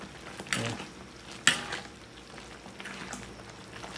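A pot of pancit bihon noodles with kikiam bubbles and sizzles softly while a utensil stirs, with a few clinks and scrapes against the metal at irregular moments.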